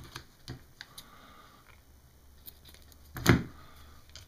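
Fishing line tag end is clipped off a slip-float rig: a few light clicks of handling, then one sharp, close snip.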